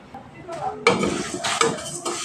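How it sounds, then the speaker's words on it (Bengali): Moong dal dry-roasted in a pan, stirred with a utensil: scraping, rattling strokes that start softly, then come louder in irregular bursts with a light clink of metal. "ডালটা এবার এইভাবে আমি শুকনো কলায় দুই তিন মিনিট ধরে একটু ভেজে নেবো"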